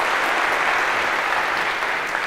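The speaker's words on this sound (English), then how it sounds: "a round of applause for our volunteers" Steady, dense applause from an audience filling a university lecture hall for the volunteers, loud and unbroken for the whole stretch with no talk over it.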